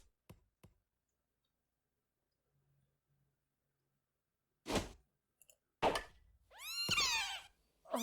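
A cat in the video game Little Busters! gives a couple of short meows near the end, after a few sharp clicks, a quiet stretch with a faint hum, and a brief thud.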